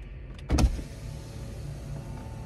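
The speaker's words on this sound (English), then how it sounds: "Oh, I can roll my window down now." A car's power window rolls down with a brief motor whir near the start, then the car interior settles into a quiet, steady hum.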